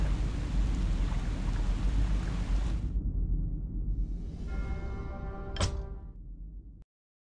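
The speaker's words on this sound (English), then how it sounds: "Where did this storm come from?" In-game thunderstorm with rain from the Warcraft III: The Frozen Throne campaign: a dense, loud rain hiss cuts off abruptly after about three seconds, then a fainter low rumble and one sharp crack before sudden silence.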